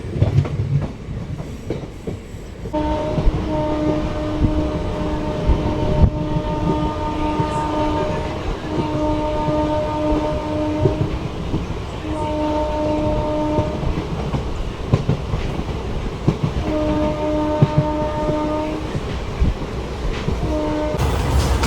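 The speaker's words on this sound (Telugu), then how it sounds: "ట్రైన్ అయితే మొత్తం ఒక 68 అయితే వెళ్తుంది, మొత్తం ఊగిపోతుంది అసలు." India's first hydrogen-powered passenger train running from Sonipat to Jind, a steady loud rumble and rattle of carriages heard from inside, with repeated sustained horn-like tones and faint voices under the noise.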